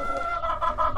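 Hens clucking close by inside a chicken coop, a run of short repeated clucks with no talk over them.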